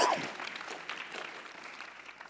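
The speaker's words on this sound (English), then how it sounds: "Can somebody give the Lord a round of applause?" A church congregation breaks into applause, starting loud with a burst of clapping and cheering that gradually thins and fades while the patter continues.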